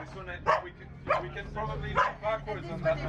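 A dog barks in four sharp, evenly spaced yips close by, with people talking over the barks.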